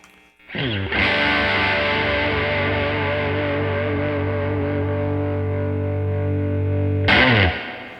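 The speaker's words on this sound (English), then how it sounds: "I've got the volume almost all the way up, so it's breaking up really nice." A loud electric guitar chord with single-coil pickups and volume nearly full rings out with heavy overdriven distortion, sustained for several seconds before a second struck chord at the end.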